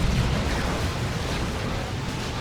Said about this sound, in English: All these spires come up, doing damage and knockback